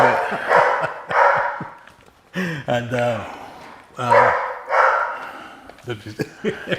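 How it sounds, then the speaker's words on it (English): A dog barks repeatedly at home during an interview, loud close bursts of barking in several clusters, with someone speaking briefly between them. "that's my dog. He ain't gonna do anything, but he lets us know if something's happening."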